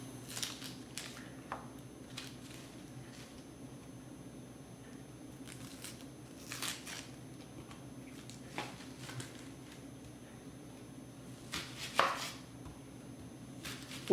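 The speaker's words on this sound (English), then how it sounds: "I'll peel each onion, then cut it in half." Knife chopping white onions on a cutting board, a series of irregular crisp taps scattered across the span with a louder cluster near the end, fairly quiet over a steady low background hum.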